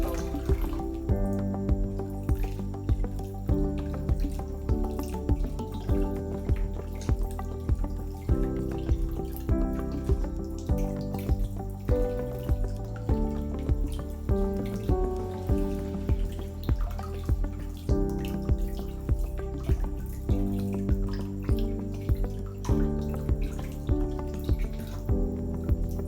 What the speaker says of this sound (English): Rinse hands with water and keeping fingertips below the elbow.